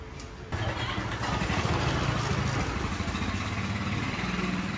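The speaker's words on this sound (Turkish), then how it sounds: "güzel bir motosiklet" A motorcycle engine rumbles at a steady idle nearby in Saigon, Vietnam, after a brief quieter moment at the start, a continuous low throbbing.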